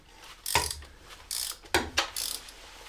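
Ratchet clicking in bursts as it turns the crankshaft of a 2009 BMW MINI Cooper R56 engine during timing belt work; four short rapid-click runs, close and clear, with no talk.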